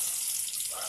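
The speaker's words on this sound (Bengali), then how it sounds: "দিয়ে দিলাম অল্প জল" A small splash of water pours into a hot pan of chapila fish mustard curry, a short continuous hissing rush with no talking.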